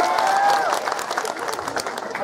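Hands clap in a crowd at an Indonesian religious gathering in Cimahi, a brisk scattered applause that fades slightly, following a brief sung or spoken voice at the start.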